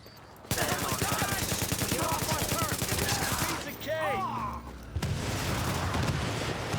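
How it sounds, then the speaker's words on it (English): AK rifle fire in a shooting video game: long, rapid, evenly spaced bursts of loud automatic shots, a short pause, then another stretch of firing, with faint game sounds in between. "just going to be dead before even 10 shots of this AK land"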